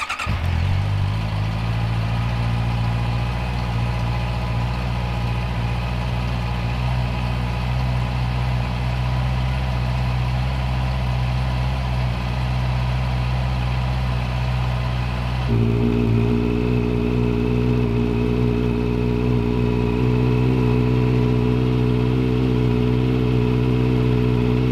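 A modified Honda CB650R motorcycle with an aftermarket exhaust idles steadily and loud up close, then the engine note rises and holds at a higher revving pitch partway through, deep and continuous with no speech.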